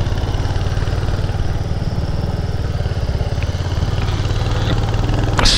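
A motorcycle engine pulls steadily up a steep hill road in low gear, a loud, close, continuous chugging drone with no break.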